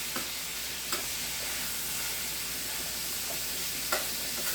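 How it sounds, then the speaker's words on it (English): Lasagna filling is stirred in a pan over a continuous bed of sizzling, with a few soft spoon scrapes spaced through it. "And you just keep stirring it."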